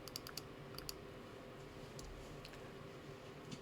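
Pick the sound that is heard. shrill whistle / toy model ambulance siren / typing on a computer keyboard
typing on a computer keyboard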